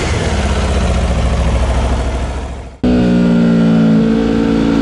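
A 2019 Aprilia RSV4 1100 Factory with a road-legal exhaust roars loudly up close, its revs fading toward a brief cut, then coming back as a strong, steady, tonal drone.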